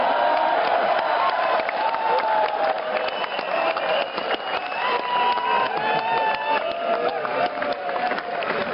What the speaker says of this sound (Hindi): तो तालियों का भी कोटा है इस जन्म का, उसे इसी जन्म में बजा लो